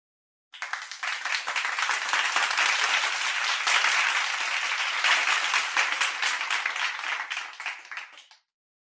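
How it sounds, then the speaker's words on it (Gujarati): A whole classroom of children claps along, a dense burst of applause that starts abruptly and holds steady for several seconds before stopping. "આખો વર્ગ તાળીઓ સાથે જોડાયો"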